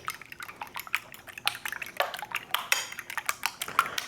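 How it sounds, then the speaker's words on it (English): Two eggs with salt and white pepper are beaten in a bowl for chicken fried rice: quick, light clinks and taps of a utensil against the bowl with a faint wet slosh, close and quiet. "I have 2 eggs here with salt and white pepper."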